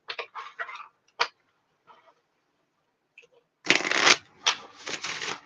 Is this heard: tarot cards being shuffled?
yes